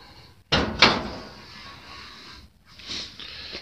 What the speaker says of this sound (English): Now you can close the garage door.